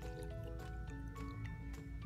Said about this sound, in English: First, you're going to add water to a jar.